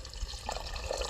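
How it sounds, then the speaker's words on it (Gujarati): Water splashes and gurgles as it is poured into a paneer masala curry in a pot, a short, close, bubbling stream with no voices. "હવે નાખી દઈએ પાણી."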